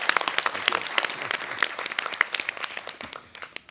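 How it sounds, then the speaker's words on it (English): An audience at the Asia Society bursts into sustained, dense applause welcoming Professor Jeffrey Sachs for an evening talk, with many close, overlapping claps that stay loud before tapering slightly toward the end. "round of applause for our speaker"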